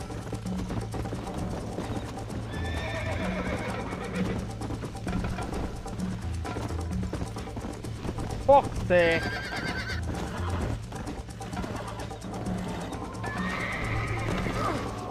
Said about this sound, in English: Fucking asshole of a horse!